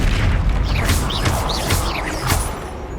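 Confringo blasting spell in the Hogwarts Legacy video game: a loud booming explosion with crackling, whooshing bursts and several quick impacts, near and forceful, with no talk over it.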